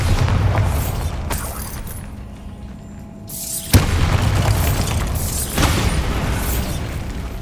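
Bombarda spell blasts in the Hogwarts Legacy video game, loud booming explosions with bursts of crackling debris, separated by a brief quieter lull.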